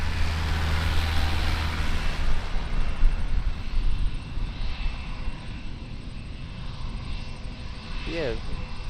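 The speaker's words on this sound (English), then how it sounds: "we've got an A320 taxiing out on the close taxiway" Airbus A320 airliner taxiing at Auckland Airport, a steady distant jet engine whine and rumble outdoors with broadband wind-like noise, holding fairly constant throughout.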